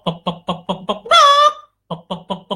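A man vocally imitates a desi rooster clucking at a cat: a close, rhythmic run of short clucks, then a drawn-out squawking cry, a brief pause, and more evenly spaced clucks.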